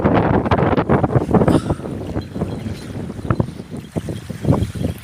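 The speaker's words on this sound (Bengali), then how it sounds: "অনেক পরিমাণে বাতাস" Strong wind gusts buffet the microphone in open country as a cyclone approaches, blowing dust; loud, continuous rough roaring with uneven bursts throughout.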